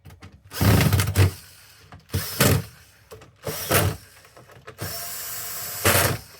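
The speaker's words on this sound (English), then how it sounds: "Screw this down." A screwdriver drives screws into a PS5 side tray in several loud bursts of whirring and ratcheting, with a worn bit skipping between short pauses.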